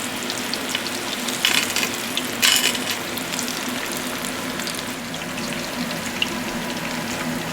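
Potato and cheese empanadas fry in a pan of hot oil, giving a continuous close-up crackling sizzle with two brief louder spitting bursts near the start.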